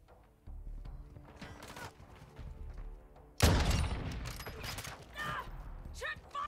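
A Victus XMR sniper rifle firing in Call of Duty MW2, a single loud sharp blast midway that rings out into a long echoing tail, preceded by quieter game ambience and mechanical clicks, with a voice talking.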